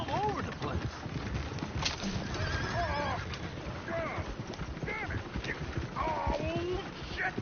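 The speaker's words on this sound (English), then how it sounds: "the horses! Damn horses!" Horses whinny several times over steady hoof clip-clop and busy background noise, with voices talking throughout, in the video game Red Dead Redemption 2.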